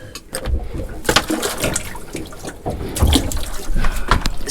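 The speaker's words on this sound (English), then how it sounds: "You take the plug out and it just lets more water in." Water trickling and splashing into a boat's live well through an open plug hole, a steady gurgling wash with louder surges, close by on a fishing boat.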